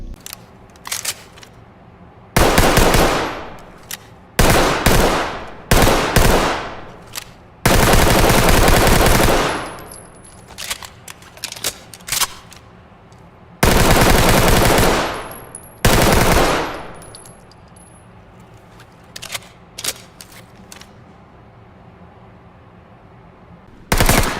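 UMP 9 submachine gun in the video game Ready or Not, firing in several loud sustained automatic bursts, some short and some lasting over a second, separated by quiet gaps.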